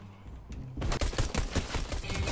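Rapid gunfire in Fortnite, starting after a short quiet lead-in and then running as dense, loud bursts of shots to the end.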